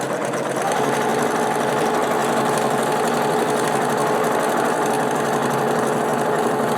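Sewing machine doing free-motion quilting of vine patterns: a loud, steady, fast mechanical whir of stitching that runs continuously from just after the start, with no talking.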